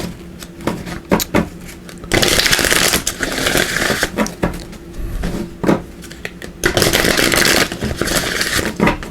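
A deck of oracle cards is shuffled by hand in two long riffling, rustling bursts, separated by lighter taps and shuffling clicks, close and fairly loud.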